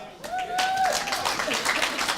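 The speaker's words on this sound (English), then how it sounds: "Clap it up" A comedy-club audience at a stand-up show in a Radisson Hotel claps in a brief, dense burst of applause, with a whistle rising at the start and crowd noise and a voice mixed in.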